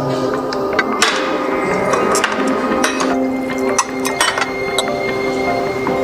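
Glasses meet in a drinking toast, giving several sharp, bright clinks scattered over a few seconds against a low background hum.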